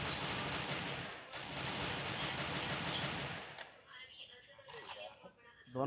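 Rapid automatic gunfire rattles in a multiplayer shooter game, a dense burst of shots for about three and a half seconds, then sparse quieter noises while a player talks.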